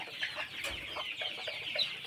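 Chickens on a poultry farm clucking softly and repeatedly, a low chorus of short calls from several birds at moderate distance over a faint background hum.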